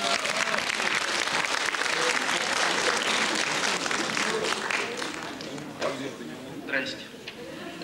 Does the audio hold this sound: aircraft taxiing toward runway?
no